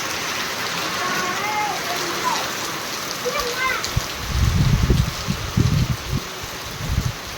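Steady rain pours down during a heavy monsoon shower, a continuous hiss of drops, with deeper muffled thuds and rumbles breaking in during the second half.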